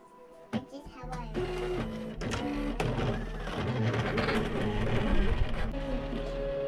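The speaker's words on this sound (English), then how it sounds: "while the machine is cutting" A vinyl cutting machine cuts heat transfer vinyl, giving a steady mechanical motor whir with a low hum and shifting whining tones as the blade carriage moves, loud and continuous with no speech.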